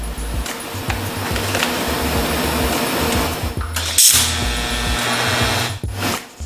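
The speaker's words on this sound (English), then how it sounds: "Now let's tack in the neck." Tack welding the steel frame neck of a Harley bagger during a rake kit install, a steady crackling buzz of welding that runs throughout with brief surges and a short break near the end, close and fairly loud with no talk.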